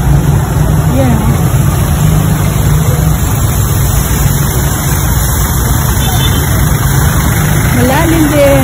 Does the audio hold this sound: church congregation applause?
no